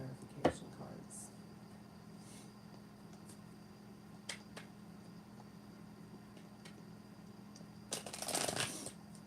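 Tarot love clarification cards being shuffled, soft scattered riffles and taps, faint and close, ending in a louder burst of card shuffling, with quiet speech around.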